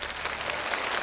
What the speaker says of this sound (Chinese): 掌声欢迎恒毅。